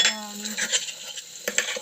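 A spoon stirring sabudana khichdi made with potatoes, chilies and crushed peanuts in a metal kadhai, with soft metallic scraping and clinks close up.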